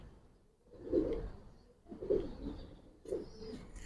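Bagha and Silver Giribaz pigeons give three low, throaty coos at roughly one-second intervals, close and fairly quiet, with no talking over them.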